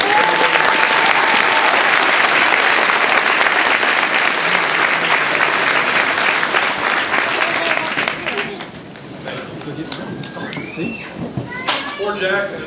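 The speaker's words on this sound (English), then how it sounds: "So if you wouldn't mind a round of applause," A crowd at an army basic training family day at Fort Jackson claps loudly and continuously, then the applause thins out near the end while children's voices and scattered chatter come through.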